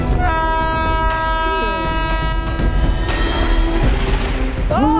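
Train in a Hindi-dubbed South Indian action movie scene, a loud sustained horn blaring over the heavy rumble of the passing train, with people shouting over it.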